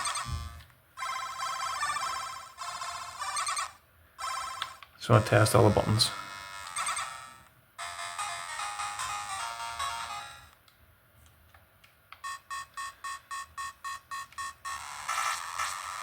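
Bright electronic Game Boy DMG beeps and jingles through upgraded sound, ending in a rapid run of repeated blips, with someone speaking briefly in between.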